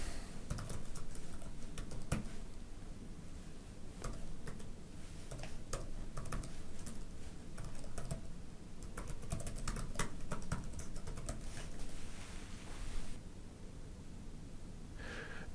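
Quick typing on a computer keyboard while signing in to a website, irregular bursts of light key clicks at close range, fairly quiet, with brief pauses between strokes.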